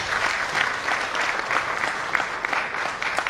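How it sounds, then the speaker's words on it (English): An audience at a corporate CEO conclave applauds the association's executive members, a dense, steady wash of many hands clapping at moderate loudness, continuous throughout with no voices rising above it. "And a round of applause to all of them"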